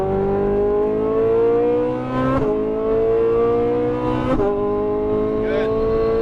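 A Lamborghini Huracan Performante accelerates on a race track, its loud, close engine note climbing steadily in pitch, with two sharp gear changes breaking the rise before it pulls again.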